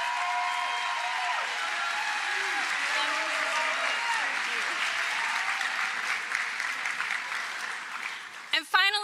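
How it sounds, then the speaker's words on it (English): Audience clapping at an eighth-grade promotion ceremony, sustained even applause lasting several seconds with speech and cheering mixed in, tapering near the end. "Round of applause."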